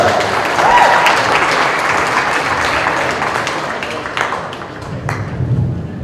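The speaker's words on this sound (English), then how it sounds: "Give these kids a round of applause." Audience applause fills the arena at a 2015 Western Spring National heifer show, a loud, sustained burst of clapping that gradually thins toward the end.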